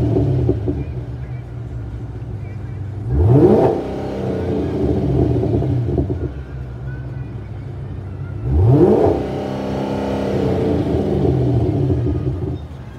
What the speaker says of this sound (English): So that's the sound of the exhaust.